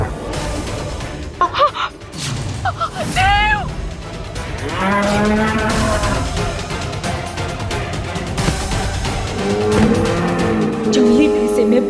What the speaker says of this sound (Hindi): जंगली भैंसे में बहुत ताकत होती है, कहीं ये देव को चोट ना पहुंचा दे।